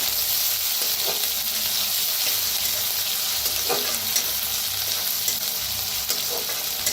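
A coarse pounded paste of green chili, garlic and cumin fries in hot oil, giving a loud continuous sizzle with occasional scraping strokes as it is stirred.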